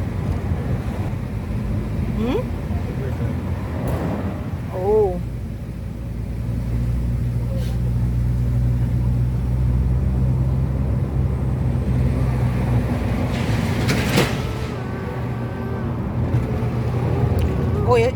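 A bus passes along a road in Jamaica, a low rumbling engine drone that swells and lingers for many seconds under wind buffeting, with people talking and brief sharp noises scattered through it.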